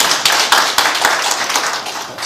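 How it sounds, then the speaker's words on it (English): An audience claps at a council meeting, a short, brisk burst of hand claps in a room, loud and close, with no talking over it. "You're not supposed to clap."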